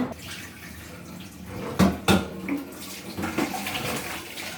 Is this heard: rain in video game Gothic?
no